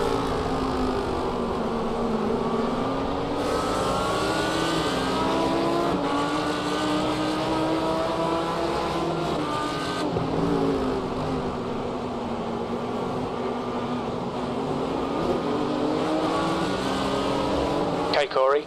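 An Audi race car runs in the slipstream at the Nürburgring 24-hour race in a racing video game, its engine drone steady and loud with pitch sweeping up and down through gear changes, under continuous overlapping talk.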